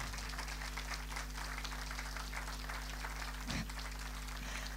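A club audience claps steadily for several seconds at a music concert, an even wash of applause heard from a distance, quiet and with a low hum beneath it.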